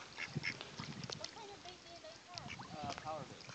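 Ducks quacking at a park pond in El Dorado during feeding, several close, scattered quacks mixed with people talking nearby.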